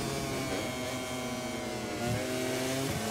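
A racing motorcycle engine in MotoGP 24, held at high revs and bouncing off the rev limiter in a steady buzzing drone, with pitch dips and a brief stutter near the end.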